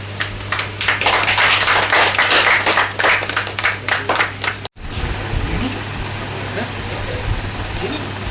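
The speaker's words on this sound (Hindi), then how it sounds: "ताली बजाओ यार।" Applause from a group at a news event in Jammu and Kashmir, dense rapid clapping that fills the first few seconds and then breaks off sharply, followed by a steady hum and a background murmur.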